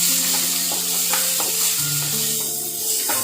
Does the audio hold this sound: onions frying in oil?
yes